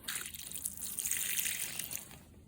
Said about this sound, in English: I'm using this watering can that I usually use at the house to water in these little starts